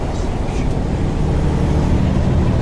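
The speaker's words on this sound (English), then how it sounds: "Pretty big gust of wind." Loud, steady outdoor wind buffeting with broadband rumble throughout, a strong gust roaring continuously for a few seconds with no talk.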